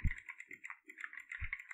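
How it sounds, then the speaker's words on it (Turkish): Quick, uneven keyboard typing mixed with sharp mouse clicks on a computer during Minecraft play, close and fairly quiet, coming in short irregular bursts. "Sadece farenin sesi, klavyenin sesini dinliyorum."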